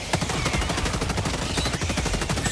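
Energy weapon in a video game firing laser bullets in a rapid, continuous automatic stream, loud and close, with dense repeated shots throughout and no talk over it.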